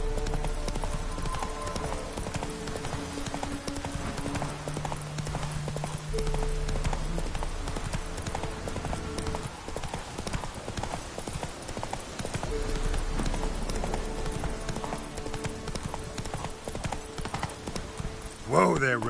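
Roach the horse's hooves clip-clop steadily and close in The Witcher 3 video game, a continuous rhythmic trot that runs throughout with a voice briefly heard over it.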